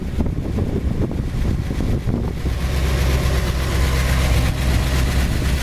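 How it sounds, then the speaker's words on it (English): A 1964 Ford Galaxie XL two-door fastback's V8 runs at a steady, deep idle close by, its low rumble buffeted by wind noise across the microphone. "It's got a nice running V8 engine in it with power steering."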